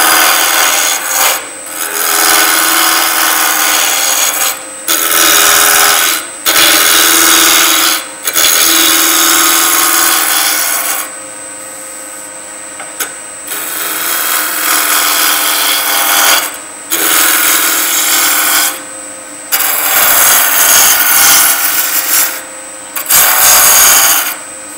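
A turning tool cuts wood spinning on a lathe while shaping an egg and a weed pot, giving loud, steady rasping scrapes in repeated passes broken by short pauses, with no talking.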